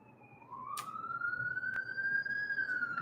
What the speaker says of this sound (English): Got a siren going by.